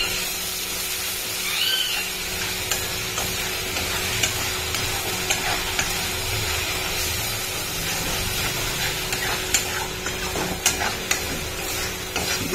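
Spice paste of tomato, garlic, ginger and chilli with cumin and coriander sizzles steadily in a pan, a continuous close frying hiss with stirring scrapes throughout and no talk.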